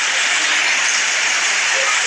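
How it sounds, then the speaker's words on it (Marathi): Heavy monsoon rain pours down in the Konkan countryside with wind, a loud, dense, unbroken hiss close to the microphone with no letup and no voices. "पाऊस लागतोय वारा सुद्धा आहे सोबत मित्रांनो"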